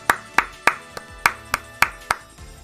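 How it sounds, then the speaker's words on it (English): A single person clapping hands close to the mic, about nine sharp, evenly spaced claps in a steady rhythm with quiet gaps between them. "I don't know if it's coming through, but I am clapping."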